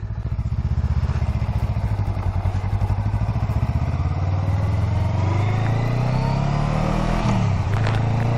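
A motorcycle heading into town rumbles loud and close, its engine pulsing steadily as it rolls along and then revving up and settling near the end.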